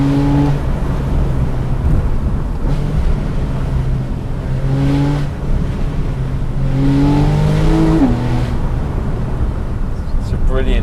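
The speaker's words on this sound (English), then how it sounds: "Downshifts are so addictive." A Porsche 911 engine blips through a string of downshifts, sharp rising and falling revs repeating every couple of seconds over a loud close cabin drone, with a person talking over it.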